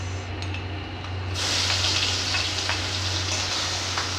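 Ginger and onion paste hits a hot pan with sugar and starts sautéing, a steady close sizzle that grows louder partway through, with a low hum beneath and a few faint clicks.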